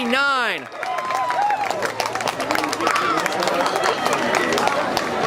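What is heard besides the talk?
crowd cheering at the finish of a boys 4x400 m relay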